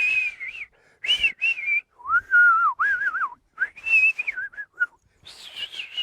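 A voice whistles in wavering, rising and falling tones, imitating blizzard wind whistling around the sides of a log home, in several separate bursts with short pauses between.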